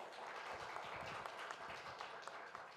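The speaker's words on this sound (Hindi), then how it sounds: "इसी बात पे तालियां बजा दो।" A seated audience at a staged hosting event claps at the host's call, a soft, continuous wash of many hands heard from a distance for a few seconds, faint and without voices.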